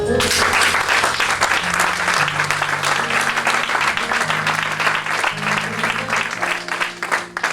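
Congregation applauding inside a church during a French Christian service, a steady loud wash of clapping throughout with organ or keyboard chords sustained underneath.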